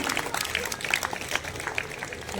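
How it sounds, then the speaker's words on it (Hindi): Audience clapping for children receiving awards at a Shri Chitragupta Sabha foundation day honour ceremony, a steady wash of applause lasting throughout with faint voices underneath. "भैया ताली बजाकर बच्चों की हौसला अफजाई करते रहें।"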